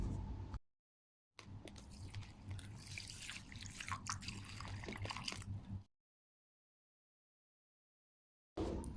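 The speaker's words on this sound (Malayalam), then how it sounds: "ഇനി ഇതിൽ കുറച്ച് വെള്ളം ഒഴിച്ച് നല്ലപോലെ ഒന്ന് കഴുകിയെടുക്കാം" Two and a half cups of raw rice (pachari) are rinsed in water for appam, with close drips, trickles and sloshing in one busy burst between two dead-silent gaps.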